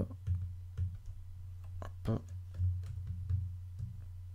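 Soft mouse clicks, single and double, tapping out at a steady pace while text is cut and pasted in the ONLYOFFICE word processor, faint and close over a low constant hum.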